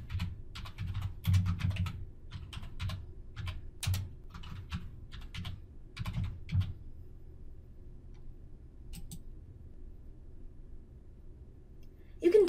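Typing on a computer keyboard while entering a new dictionary category in software, bursts of quick light key clicks for several seconds, then sparse taps and quiet near the end.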